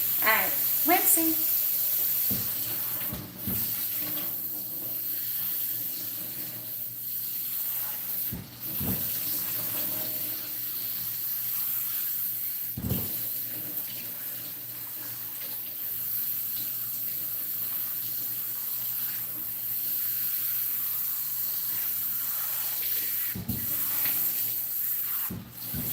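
Tap water runs steadily from a faucet as hair is rinsed during a home shampoo, a continuous close hiss and splatter lasting the whole stretch, broken by a few brief bumps and splashes.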